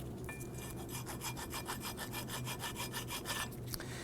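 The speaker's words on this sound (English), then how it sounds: "If you happen to see any scaly rust on here, you do need to attend to that. And how you can do that, you can use a flat file." A flat file scrapes scaly rust off the front brake surfaces of a 2008-2011 Ford Focus in steady back-and-forth strokes, close and even, with no voices.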